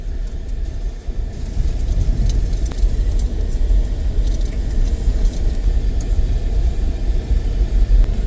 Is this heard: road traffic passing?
yes